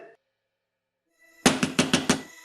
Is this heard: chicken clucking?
no